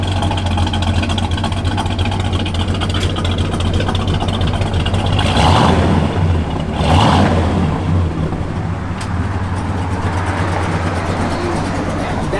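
A 1970 Plymouth Road Runner with an aftermarket cam runs near, its rough, lopey idle steady throughout with two brief swells of revving in the middle, and no talk over it.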